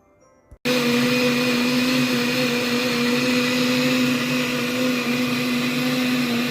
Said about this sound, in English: my mom got me this soy milk maker